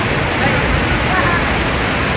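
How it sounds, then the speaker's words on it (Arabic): Waterfalls at Hamida in Wesab al-Aali in Yemen, swollen by floodwater after rain, send out a steady, loud, broadband roar of rushing water. It runs unbroken and close the whole way through. "هذه شلالات حميدة"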